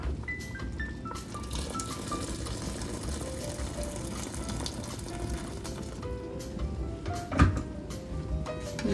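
Water poured into a pan of creamy mustard chicken sauce, a steady liquid fill running for several seconds beneath background music, with a sharper splash or clink near the end.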